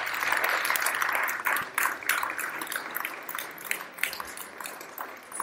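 An audience at an International Yoga Day event in Sesto San Giovanni claps in a moderate round of applause with scattered sharper claps, and faint voices can be heard underneath as it gradually thins out.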